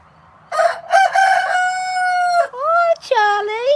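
A rooster crows loudly and close by, a long drawn-out cock-a-doodle-doo followed by shorter rising calls and a few clucks, with no talk over it.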